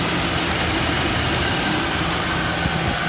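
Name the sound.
engine of a 1996 Toyota Land Cruiser 80-Series running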